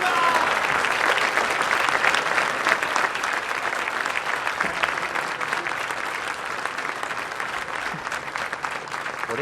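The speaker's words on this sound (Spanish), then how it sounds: "Agradecemos y despedimos con este fuerte aplauso al señor presidente de la Nación, doctor Javier Milei." Sustained strong applause from a large crowd for Argentine President Javier Milei at the Bolsa de Comercio de Córdoba, dense steady clapping filling the whole stretch at a fairly even level.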